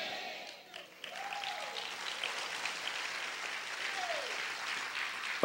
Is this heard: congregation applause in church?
yes